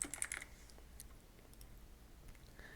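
Quiet tapping on a computer keyboard, a quick cluster of soft keystrokes at the start followed by a few sparse clicks, close and faint with no talking.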